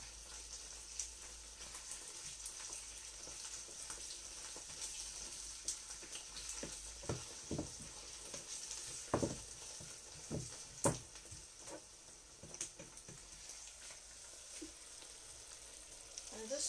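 A spinach and egg sauce fries in a pan with a faint steady sizzle, broken by occasional scraping and stirring knocks from a spoon at close range.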